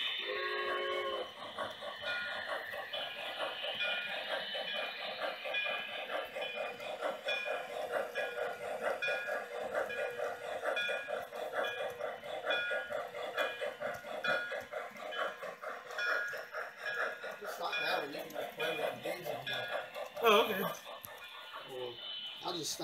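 A first-generation GM demonstrator diesel model train from MTH rumbles and clicks steadily along its track, with a humming motor, while people talk over it. A horn-like tone rises near the end.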